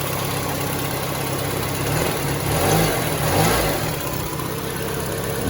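Standard Peugeot 306 engine, a car sitting in a junkyard, revved with the throttle, its loud steady running note swelling twice in close succession before settling back toward idle.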